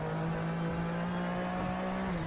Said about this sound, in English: This is pretty much full throttle through here.